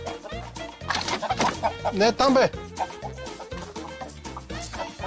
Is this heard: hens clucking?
yes